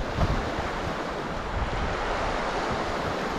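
A shallow, fast river with strong rapids rushes continuously, a dense, loud wash of water noise mixed with some wind buffeting on the microphone, with no voices.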